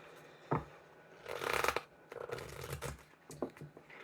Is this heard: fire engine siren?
no